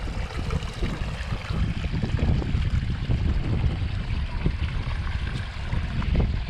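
Water from a garden water feature trickling and splashing steadily into a culvert, a continuous close burble with no talk over it.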